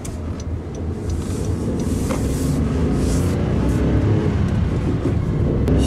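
Non-turbo Honda N-VAN with a six-speed manual gearbox on the road, giving a steady, continuous engine drone and road rumble from inside the cabin with no talk.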